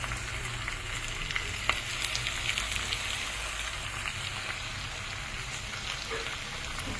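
Mutton frying in a kadai with oil released from the meat gives off a steady, close, even sizzle that holds through the whole stretch, with no voices over it.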